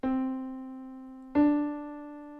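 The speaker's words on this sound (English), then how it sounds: "The major second sounds like this." A major second interval played as two sustained tonal notes in succession, the second struck about a second after the first, both ringing and slowly fading, close and alone.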